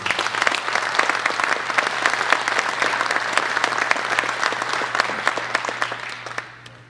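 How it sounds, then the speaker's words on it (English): Sustained audience applause greets a B-29 bombardier navigator introduced at a talk, dense clapping filling the room steadily for several seconds before tapering off at the end. "Give him a big round."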